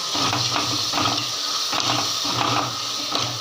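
Coriander leaves and mint being stirred and sautéed in a pan for a rabbit curry, giving a steady, close hiss of sizzling throughout, with faint rhythmic clatter and no talking.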